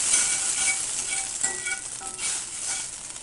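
Slices of French toast bread frying in butter in a pan, a dense, steady sizzle with faint crackles throughout, close and even, with no speech.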